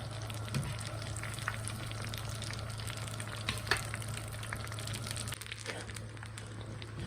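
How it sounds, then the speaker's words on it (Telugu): Chicken pieces in their second round of frying in hot oil, giving a dense continuous sizzle with crackling pops and occasional stirring clatter, close up, over a steady low hum. "ఆల్రెడీ డబుల్ ఫ్రై చేశాను నేను ఇది సెకండ్ టైం వేసాను కదా"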